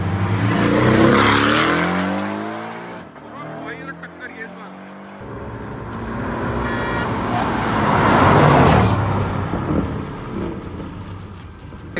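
Cars roar past in a drag race, engines rising and falling in loud revving passes with a sharp cut midway, followed by another surging run.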